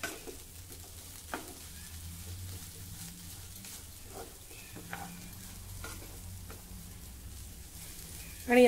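Potatoes for a fasting dish, mixed with coarsely pounded roasted peanuts, are stirred in a pan. The food sizzles quietly while a spoon scrapes and knocks against the metal a few times.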